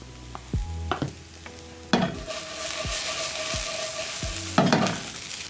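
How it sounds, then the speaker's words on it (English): Scrambled eggs cooking in butter in a pan, with a steady sizzle under several sharp scrapes and knocks of a utensil stirring against the pan, close and fairly loud, no talking. "I am making some scrambled eggs for my side."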